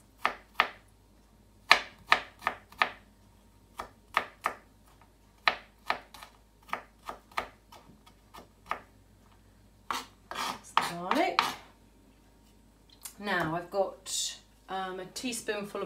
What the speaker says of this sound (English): you can just chop it nice and small like I'm doing